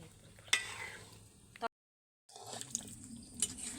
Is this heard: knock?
no